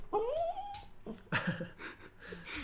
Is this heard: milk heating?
no